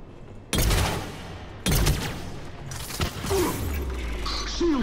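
Gunfire in the video game Mass Effect 3: three loud, sharp bursts of shots, each followed by a clattering, rumbling tail of combat noise.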